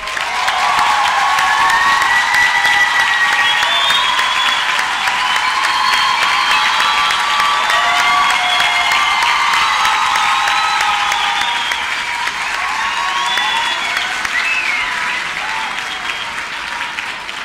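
Audience applause for a mediator at a university debate event, a loud, sustained round of clapping lasting well over fifteen seconds, with some crowd noise mixed in.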